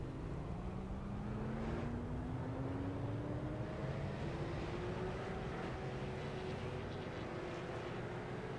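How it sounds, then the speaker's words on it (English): Pace car engine at a Pro Street Stock Series race, a steady motor drone with a tone rising slowly as the car begins rolling, heard amid continuous trackside noise. "And the pace car starting to roll."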